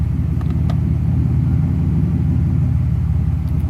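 A Mercedes SL600 with a newly installed transmission runs at a steady idle while being shifted into reverse, giving a loud, continuous low rumble with no distinct clunk standing out.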